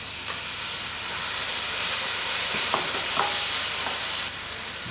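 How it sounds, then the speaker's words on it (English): Beans tipped into a hot pan for a vegan rice and sweet potato lunch, hissing and sizzling steadily while a spoon scrapes and stirs with a few clinks. "Let's add the beans."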